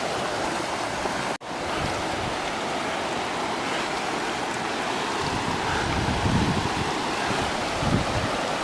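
Rock Creek flowing at a mountain trail crossing near a meadow, a steady broad rush of water close by, with brief wind buffeting and no talk.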